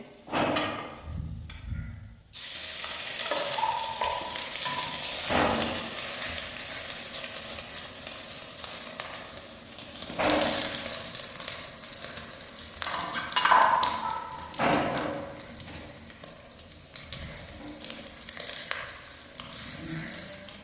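Fish roe fritters frying in oil in a wok give a continuous crackling sizzle, close and moderately loud, broken by occasional sharp clanks and scraping from a utensil.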